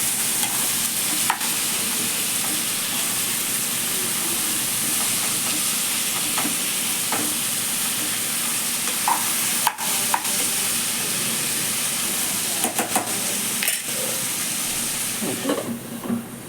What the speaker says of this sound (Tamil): போட்டு நல்லா எண்ணெயில் வதக்கி வேக விடணும்.